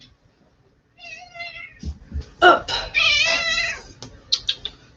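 A pet cat meows several times up close, with drawn-out, wavering cries. A person speaks briefly between the meows.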